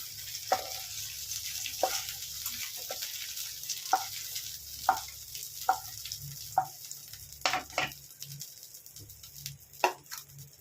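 Okra with turmeric frying in a pan: a steady hiss of sizzling oil runs throughout, broken by regular clicks and scrapes of a spatula stirring, with no talk.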